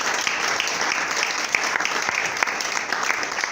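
A church congregation applauds during a sermon, with dense, steady clapping throughout a few seconds, loud and close, without speech on top.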